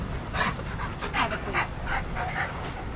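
Dogs pant at a dog daycare in quick, rhythmic breathy puffs close by, set against a constant noisy room background.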